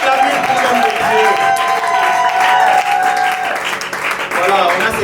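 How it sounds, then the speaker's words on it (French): A church congregation applauds and cheers a pastor and his wife: steady, loud clapping from a large crowd over several seconds, with voices and musical tones mixed in. "On peut bien acclamer pour l'homme de Dieu"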